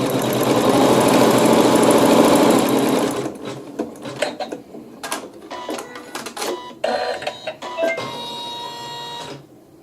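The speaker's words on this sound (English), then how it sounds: "I'll place the hoop back on the machine and let it stitch the seam" An embroidery machine stitches a seam on fabric held in a hoop, a loud steady whirring run for a few seconds that breaks into shorter bursts and pauses with clicks, close by, no talking.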